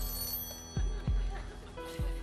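A telephone rings on a game show set, a faint trilling bell bursting a few times at a steady pace under room noise.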